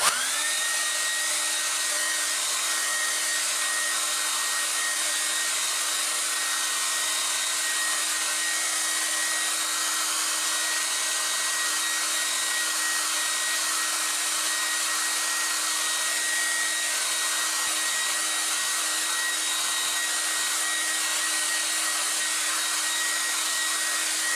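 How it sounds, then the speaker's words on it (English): A hair dryer blows steadily on a watercolor painting to dry it fast, a loud continuous whirring hiss with a steady motor whine that runs unbroken throughout with no talking. "Okay, we make it dry very fast."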